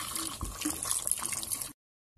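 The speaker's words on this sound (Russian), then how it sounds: "можно добавить водички, чтобы она покрывала все мясо" Water poured into a pot of beef stew gives a short, soft liquid splash and trickle for under two seconds, then stops abruptly.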